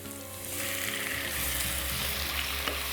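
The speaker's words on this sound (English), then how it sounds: "And then I will throw in my tomatoes." Chopped garlic and tomatoes hit a hot frying pan for a chorizo tomato pasta, giving a loud, steady sizzle and crackle that swells and holds throughout, with no voices.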